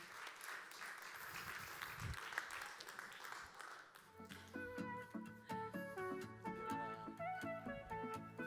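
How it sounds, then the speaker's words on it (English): A crowd applauds steadily for a few seconds, then music with a bright melodic line comes in and carries on to the end. "A round of applause for her."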